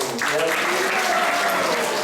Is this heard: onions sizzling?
no